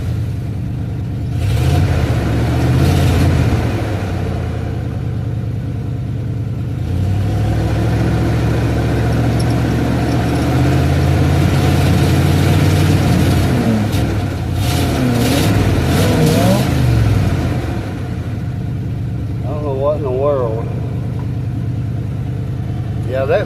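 A car engine in a backyard with a suspected failing fuel pump and carburetor flooding with gas, revving in repeated surges that stumble and hesitate, loud and close, with someone talking over the engine.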